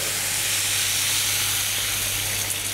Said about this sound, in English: So just before your bacon starts to crisp up, you're going to add a fish stock